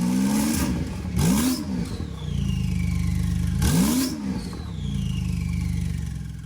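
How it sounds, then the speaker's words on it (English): A Porsche GT2 RS with a decatted titanium exhaust is blipped twice, each sharp rev rising and falling over a loud, steady idle, heard up close with no voices. "the car doesn't sound quite standard, and the reason being is because we've decatted this"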